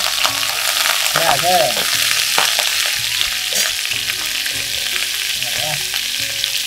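Water lily stems added to oil with black cumin tempering, a steady close sizzle and crackle of frying with occasional stirring scrapes, no talking.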